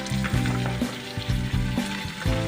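Frog meat frying in a pan with garlic, onion and ginger, a steady close sizzle broken by several low thumps and scrapes of stirring, with no voices.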